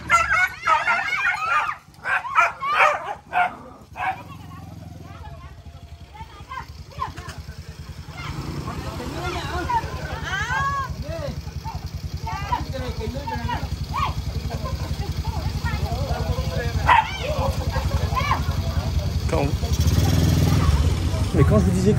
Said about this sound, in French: les chiens ils se sont attaqués, ils ont gueulé et tout.